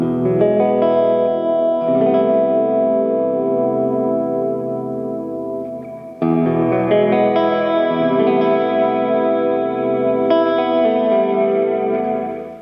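An electric guitar plays sustained chords through a Walrus Audio Slö multi texture reverb pedal, the notes ringing out in a lush, washy tail; a fresh strum midway renews the swell, loud and alone without talk.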